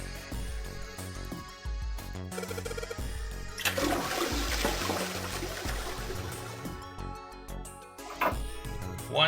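A toilet flushing in the video game Zero Escape: Nine Hours, Nine Persons, Nine Doors: a loud rushing swirl of water that builds up and drains away, layered over background game music, with no talking.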